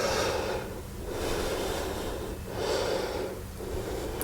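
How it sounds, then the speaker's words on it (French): Slow deep breaths during a yoga locust pose, close and soft, with about three long inhale-exhale cycles in a quiet room. "Et on reste 2 respirations."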